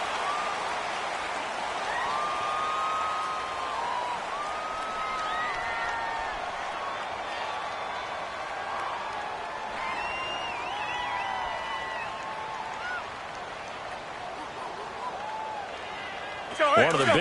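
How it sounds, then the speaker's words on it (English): A football stadium crowd at a Buccaneers versus Packers game keeps up a broad, sustained roar of cheering, with a commentator talking over it for most of the stretch and a sharper swell near the end. "the crowd getting into it as we come up on a big 3rd down"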